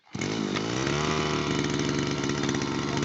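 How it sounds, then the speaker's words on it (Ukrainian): A petrol brush cutter with a cutting disc fitted for thick, tall grass starts up and then runs loudly and steadily, a close, rough engine drone that holds for about three seconds. "Включаємо косу, заводимо."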